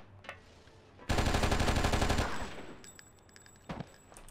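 Sustained automatic weapon fire in the PC video game Oni, a loud, dense constant stream lasting over a second before cutting off, followed by quieter scattered game effects and a couple of brief bursts.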